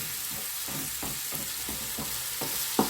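Banana flower curry frying in a pan while being stirred: a steady loud sizzle with regular scraping strokes of a spoon roughly every third of a second, close up, no voices.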